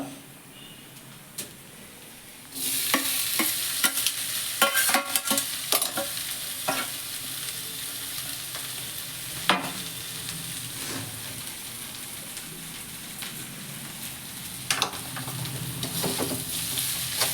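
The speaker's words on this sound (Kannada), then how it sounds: "ನಾನು ಈ ಒಗ್ಗರಣೆಯಲ್ಲಿ ಈ ಗೋರಿಕಾಯಿನ ಸೇರಿಸ್ತಾ ಇದ್ದೀನಿ" Cluster beans sizzle steadily in a hot pan of spiced oil tempering as they are stirred, with scraping spatula strokes and occasional clinks over a constant frying hiss.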